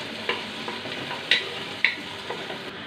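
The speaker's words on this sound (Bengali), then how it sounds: "এখন পেঁয়াজগুলোকে একটু নেড়ে ভেজে নিতে হবে" Onions fry in a pan with a soft, steady sizzle while a utensil stirs them, giving a few sharp scraping clicks at irregular intervals, close and quiet, with no talking.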